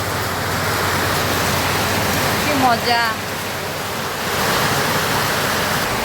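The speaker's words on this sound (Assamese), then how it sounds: "বৰষুণ দিছে, বৰষুণ।" Heavy rain falls steadily outside a kitchen, a loud, even broadband roar filling the whole span, while a voice briefly speaks over it.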